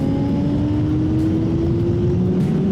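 A 2024 Honda CBR600RR engine revving on a racetrack, a steady droning whine climbing slowly in pitch as the bike accelerates, loud and close for the whole stretch with no talk.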